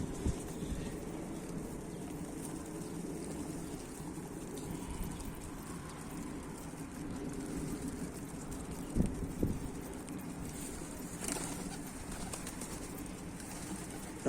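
Soft pigeon cooing against a steady windy outdoor hum, with a few brief rustles like wings flapping nearby.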